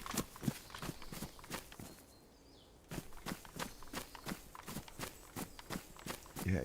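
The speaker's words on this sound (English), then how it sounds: "I'm thinking I'm hearing footsteps" Footsteps in the survival game DayZ, on Chernarus: a faint, steady run of soft thuds with a brief pause midway before the steps resume.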